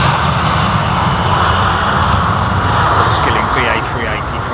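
Aircraft jet engines roar steadily at London Heathrow Airport, a loud, constant broadband rumble that fills the whole stretch without letting up.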